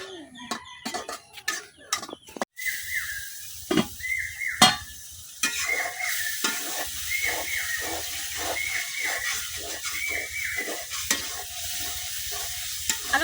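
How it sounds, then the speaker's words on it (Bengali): Potatoes sizzle steadily as they are sautéed in spice paste for a fish curry with okra, with a clatter of stirring up front and then a steady frying hiss broken by repeated scraping strokes, close and alone. "আলুগুলো অনেকক্ষণ কষাই নিচ্ছি"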